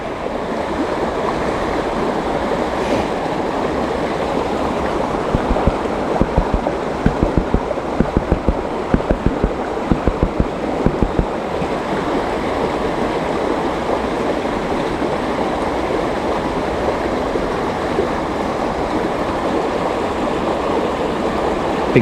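Water sloshes and swirls in a gold prospecting pan during urban panning, a loud, continuous close wash with a stretch of rhythmic splashing partway through.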